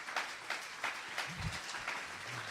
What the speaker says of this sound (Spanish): Démosle un aplauso al dueño de la luz.